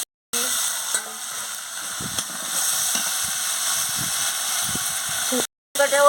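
Spice paste with chili powder sizzles steadily in a pan as it is cooked down for a potato, pointed gourd and paneer curry, with scraping stir strokes heard throughout and brief silent gaps at the start and end.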